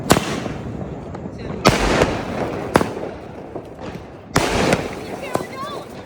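Diwali firecrackers burst outdoors, sharp loud cracks at irregular intervals, four main bangs over a constant crackling background, with faint voices in the distance.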